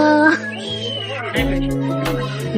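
A person imitates a cat's meow with drawn-out, wavering vocal calls at Thiruvananthapuram Zoo, close and fairly loud, a few in a row.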